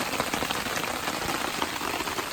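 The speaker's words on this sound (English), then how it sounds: "We got ourselves some rain." Steady rain patters on surfaces at a forest campsite during a thunderstorm, a dense, even hiss without talk.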